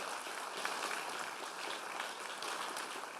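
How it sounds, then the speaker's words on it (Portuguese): A congregation at a Baptist church applauds, giving an even, fairly faint wash of many hands clapping that holds steady for about three seconds without distinct individual claps. "Pode aplaudir."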